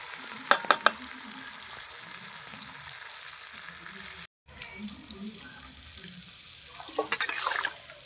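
Spiced meat sizzling in a pan as water is poured in, a rushing splash and hiss near the start, a brief dropout, then quieter simmering sizzle with another burst of splashing toward the end.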